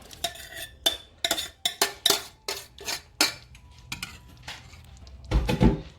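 Chicken curry is transferred back into the original pot with a rapid series of clanks and scrapes of a utensil against metal, close and sharp, ending in a heavier, duller clatter.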